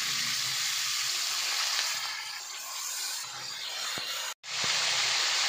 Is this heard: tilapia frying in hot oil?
yes